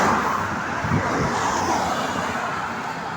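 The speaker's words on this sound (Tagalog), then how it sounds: "Ang ingay ng mga sasakyan." Continuous road traffic hums and rushes nearby, cars droning past with a steady broad roar.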